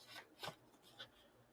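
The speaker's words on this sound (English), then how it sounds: "And then I'm going to start shuffling some cards." Tarot cards are shuffled softly at close range, giving quiet rubbing and riffling swishes in three or four short bursts over a faint background hiss.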